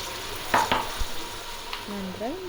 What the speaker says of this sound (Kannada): ಟೊಮೊಟೊ ಹಾಕಾದ್ಮೇಲೆ ಮತ್ತೆ ಇನ್ನೊಂದ್ಸಲ ಚೆನ್ನಾಗಿ ಫ್ರೈ ಮಾಡ್ಕೊಳ್ಳಿ